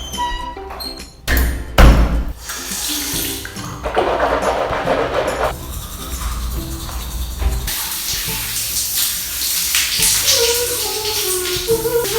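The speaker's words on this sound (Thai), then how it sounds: "ไม่ไหวแล้วต้องอาบน้ำละ" Thumps and handling noises come first, then a loud, steady broadband hiss of water running for a shower at home, continuing to the end without clear talk.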